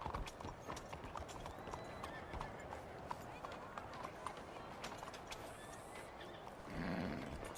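Horse hooves in the Red Dead Redemption 2 video game clip-clop at a steady gait through the whole stretch, moderately loud amid ambient game sound, with a louder burst near the end.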